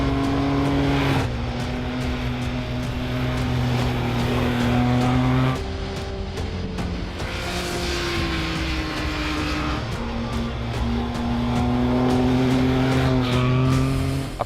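A Triumph Speed Triple RS motorcycle ridden on roads and track at Almeria, its engine droning loud and steady with pitch sweeping up and down as the rider shifts, under constant wind roar.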